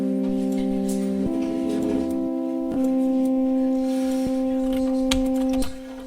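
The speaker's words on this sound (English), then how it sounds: "right now what you hear is that they're actually making quite a cacophonous noise" Two synth tracks in Cadence play clashing sustained notes together, a dissonant drone of held tones that shift at a few points with soft clicks, fairly quiet and steady, no talk.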